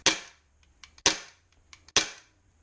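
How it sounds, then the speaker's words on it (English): Beretta APX airsoft pistol firing on CO2 with blowback action: three sharp, loud cracks about a second apart, each followed by a faint mechanical clack of the slide cycling, with no talk. "So, now that this has CO2 in it, you can actually fire it."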